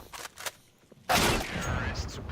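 Gunfire in a CS:GO professional match between FaZe and G2, a few faint shots early, then a loud close burst of gunfire with ringing tail, under a commentator's voice.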